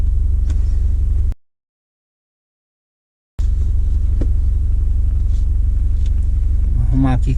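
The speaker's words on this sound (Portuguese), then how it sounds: "Pé fundo no acelerador" A BMW 320 GT engine rumbles under full-throttle acceleration in Sport mode, a loud steady low drone broken by a sudden gap of silence, with a rising revving sweep near the end.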